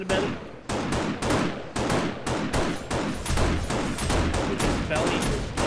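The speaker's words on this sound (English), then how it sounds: "Can I shoot him in the belly?" Rapid, loud bursts of gunfire ring out in the modded survival game 7 Days to Die during a horde night, repeating in quick succession with brief gaps between volleys.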